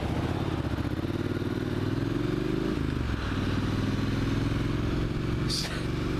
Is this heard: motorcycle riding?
yes